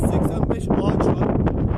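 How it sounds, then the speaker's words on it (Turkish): Strong wind buffets the microphone in an olive grove near the sea, a steady roaring rumble that fills the whole stretch at close range. "Gördüğünüz gibi çok rüzgar var."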